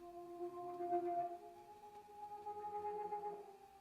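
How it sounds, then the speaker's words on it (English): Reversed chopped synth chords from a beat swell and smear backward, their sustained tones fading in and out over a few seconds before a sharp click at the end, quiet and alone. "But then I reversed it so that it sounds like this."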